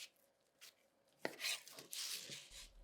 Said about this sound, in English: dive straight into these chicken thighs. We're just going to chop them up into bite-sized pieces